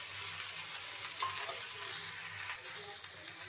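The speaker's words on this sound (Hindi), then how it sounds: "तो मटर भी हमारा फ्राई हो जाएगा" Peas frying in oil with cauliflower and potato for a fulkopi aloo matar sabji, a steady, even sizzle held throughout at low level, close by with no talk.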